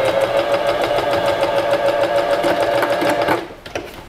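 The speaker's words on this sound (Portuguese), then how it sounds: "aqui eu vou passar uma costurinha, tá? Pra fechar um dos lados" A sewing machine runs steadily, stitching a fabric hot dog pet costume for Carnaval, with a loud, even rapid mechanical whir that stops abruptly near the end.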